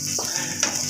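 Spaghetti boiled for over 24 hours until very soft is stirred in a pot, giving two short, wet scraping strokes, close and quiet.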